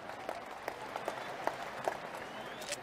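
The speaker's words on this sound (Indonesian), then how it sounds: "Kita berikan tepuk tangan untuk Ketua Umum Partai Demokrat, Mas Agus Harimurti Yudhoyono" Steady applause from an audience at an Indonesian NasDem party political speech: many hands clapping in a continuous crowd patter throughout.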